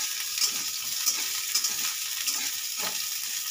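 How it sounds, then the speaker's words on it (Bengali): Okra and pumpkin fry in hot oil with a steady, moderately loud sizzle, broken by a few soft crackles and stirring taps. No talk. "এই যে এটা আমি 2 মিনিট ভাজার জন্য রেখে দিলাম।"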